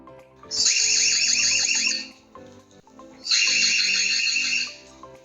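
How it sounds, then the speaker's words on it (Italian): Two loud, shrill electronic alarm bursts from an EZVIZ BC1C solar-powered WiFi security camera, each about two seconds long with a rapid warbling pulse, separated by a short pause with faint background noise. "appena è passato è scattato l'allarme"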